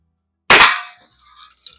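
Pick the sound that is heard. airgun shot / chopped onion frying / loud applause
airgun shot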